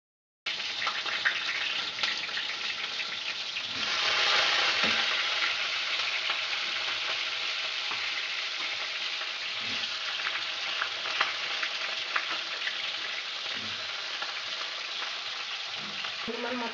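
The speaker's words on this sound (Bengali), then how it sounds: "আলুটা একটু লাল লাল করে ভাজা করব।" Cut potatoes frying in oil in a pan for a cabbage curry, a steady bright sizzle that swells when stirred, with occasional soft scrapes and knocks from a utensil.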